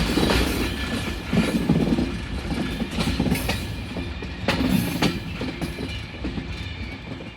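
An old Bulgarian express train about 40 years old and rusty rolls along a slow, scenic line through hilly countryside, its cars rumbling and clattering steadily over the rails with intermittent wheel squeals, loud and close from inside.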